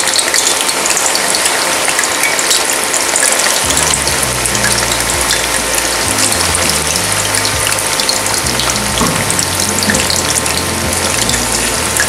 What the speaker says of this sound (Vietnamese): Dầu của mình sôi thì các bạn cho chuối vô chiên.